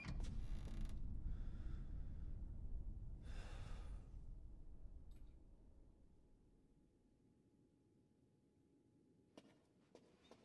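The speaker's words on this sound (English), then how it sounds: "Thanks for opening the door for me." A heavy door in Resident Evil Village groaning open with long low creaks and scraping, loud at first then fading into a quiet room with a faint tone and a few soft knocks.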